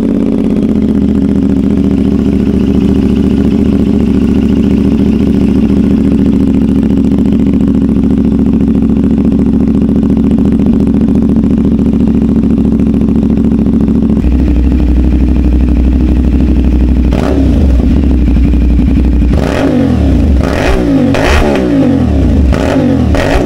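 A 450NK motorcycle fitted with an AR Racing shorty slip-on exhaust, with a leak at the exhaust, idles loudly and steadily up close, then revs in several sharp rising blips toward the end.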